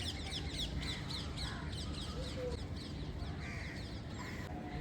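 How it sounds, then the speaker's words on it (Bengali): Crows caw repeatedly from a rooftop on a fine day, their rhythmic, fairly close calls sitting over a constant low ambient hum. "কি পাখির আওয়াজ"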